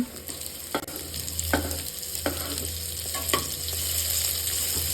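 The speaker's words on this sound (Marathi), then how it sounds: "व्यवस्थित कमी गॅस करून व्यवस्थित परतून घ्यायचं आहे आपल्याला लसूण मिरची।" Garlic and green chillies are sautéed on a low flame, with a steady close sizzle and several scraping stirs of the spatula at irregular intervals and no voices.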